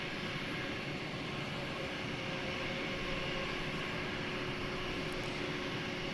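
A Boeing 747 arriving at DFW Airport at night gives a steady, broad engine roar that holds at an even level throughout, heard from a distance with no voices.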